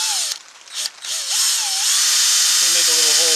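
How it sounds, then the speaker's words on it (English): A power drill whirs and winds up while drilling a shallow hole in a door, its pitch rising and falling as it bites, with a steady high hum running throughout. "we're going to drill it"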